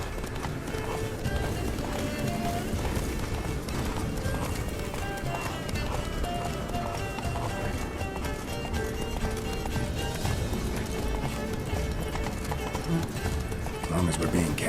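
Roach the horse galloping in The Witcher 3, a rapid continuous clip-clop of hooves with occasional whinnies, loud and steady throughout, mixed with game ambience and a brief voice.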